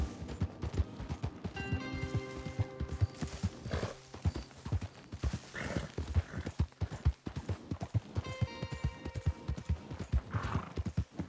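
Horse hooves clip-clop in a steady walking rhythm in Red Dead Redemption 2, close and clear, with occasional whinnies rising over the footfalls and no talking.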